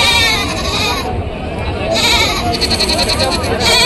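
Goats bleat at a busy livestock market, several animals calling close by over crowd talk and general bustle, loud and continuous.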